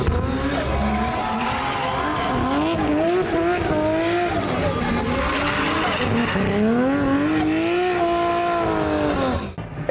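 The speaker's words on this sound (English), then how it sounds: "A strange place to find a GTR at SEMA was in the Hoonigan Burnyard, with Gary King's R33 putting on a show." A Nissan GT-R R33 roars through a burnout in the Hoonigan Burnyard at SEMA, its engine revving hard and wavering under continuous loud tire squeal for the full stretch, close and without talk.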